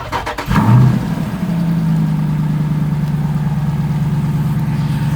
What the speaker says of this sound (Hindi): मैं आपको इंजन की आवाज़ सुना देता हूँ